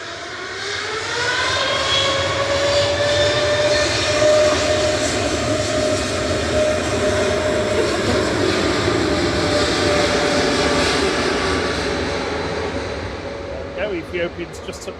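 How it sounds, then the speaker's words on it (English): An Ethiopian Airlines jet lands at Manchester Airport, a loud, sustained engine roar with a steady whine that rises and then slowly fades, heard from outdoors by plane spotters. "And Ethiopian should be landing in the background."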